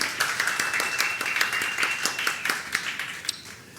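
A small storytelling-session audience claps for a latecomer with scattered, uneven hand claps. A few sharper individual claps stand out above a faint murmur in the room.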